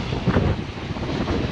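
Strong gusting wind during rain, a steady close roar of wind buffeting the microphone with no speech.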